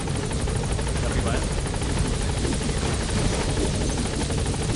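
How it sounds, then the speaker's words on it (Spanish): A helicopter in the Metal Gear Solid V video game drones with a steady, loud rotor chop that runs unbroken through the whole stretch, with a voice talking over it. "Lo del helicóptero está guapísimo."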